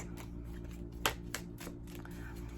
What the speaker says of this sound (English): I'm going to do the shake and shuffle like you normally see, like this.